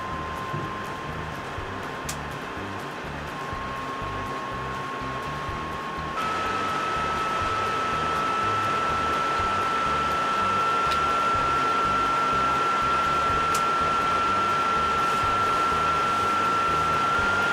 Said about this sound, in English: Let me show you how loud my PS4 actually is.